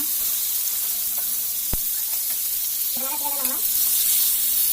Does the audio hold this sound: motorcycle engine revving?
no